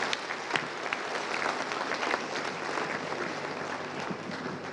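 Steady, dense applause rises from a conference audience at an agricultural results fair, saluting the presenters; it holds at an even level for several seconds with no break.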